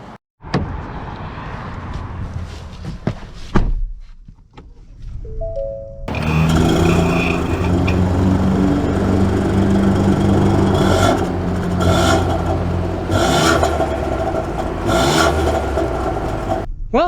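A Ford Escape's 1.5-litre turbocharged three-cylinder engine is started and driven off, its running drone rising with revs after a short quiet stretch with some handling noises, then a busy, loud engine and cabin sound.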